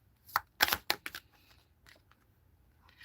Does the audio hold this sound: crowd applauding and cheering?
no